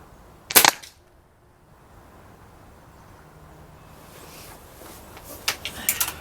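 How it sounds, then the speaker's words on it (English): A Gamo Swarm .22 air rifle fitted with a new piston seal fires at targets, one sharp, loud crack near the start followed by quieter snaps and clicks toward the end. "I'm just going to go ahead and shoot them through it."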